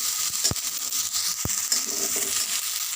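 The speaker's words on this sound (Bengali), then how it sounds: "অল্প হলুদ গুঁড়ো দিয়ে সব মশলাটাকে ভালো করে কষে নেবো" Spices with chilli and turmeric sauté in a pan, giving a steady close hiss and sizzle, with two sharp taps of the spoon against the pan.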